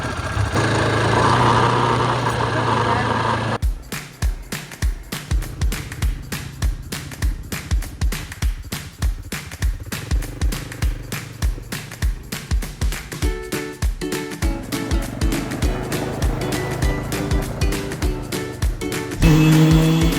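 A quad bike's engine revs and putters unevenly while it is ridden, rising and falling in quick throttle pulses up close, with louder wind rush at the start and end.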